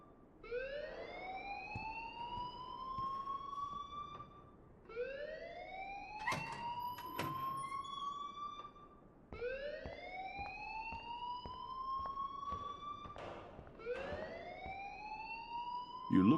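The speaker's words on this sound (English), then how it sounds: "please turn off that alarm since that's your job" An alarm in the Life Is Strange video game, a rising whooping tone repeating in four long cycles of about four seconds each, with faint talk and bumps between cycles.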